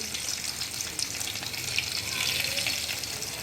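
Crushed garlic frying in a spoonful of oil, a steady close sizzle with fine crackling spread evenly through the short stretch, no voices over it.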